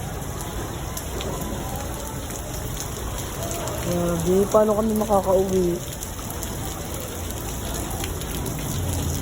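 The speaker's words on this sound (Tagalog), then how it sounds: "ang lakas ng ulan" Heavy rain pours down in a steady, dense hiss. A voice speaks briefly over the rain midway.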